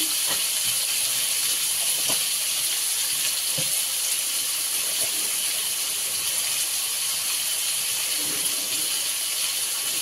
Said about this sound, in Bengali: পরিমাণ মতন হলুদ, দিয়ে লাল লাল করে আলুটাকে ভেজে নেওয়া হবে।